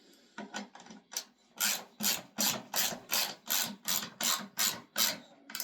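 Hand ratchet tightening the leg bolts on a basic workbench, about a dozen crisp, evenly spaced clicking bursts in steady rhythm, close and fairly quiet with no talking.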